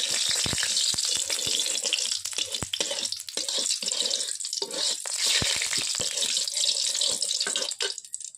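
Spices sizzling and frying in hot oil in a pan while cooking a drumstick-flower (sajana phula) dish, a steady loud crackling hiss running throughout with no talk.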